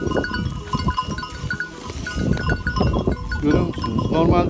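Sheep in a pasture, a small flock of six, bleat repeatedly and loudly close by, overlapping calls with faint clinks between them.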